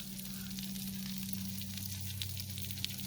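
Vegetables sautéing over high heat in a pan for an Italian pork rib sandwich, a steady close sizzle with soft crackle and a low hum underneath, continuous and alone.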